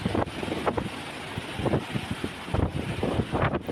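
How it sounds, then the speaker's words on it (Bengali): Strong wind from Cyclone Remal at Mongla in the Sundarbans buffets the microphone in uneven gusts, a rough, rumbling roar that rises and falls close up for several seconds. "প্রচুর পরিমাণ বাতাস হচ্ছে"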